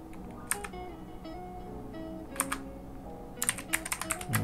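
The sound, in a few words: typing code on a computer keyboard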